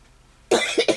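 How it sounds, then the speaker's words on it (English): A person gives a short burst of close, loud coughs after a moment of near silence: a sharp first cough followed by two quicker ones, with no speech. "I'm going to have to get the cough up now"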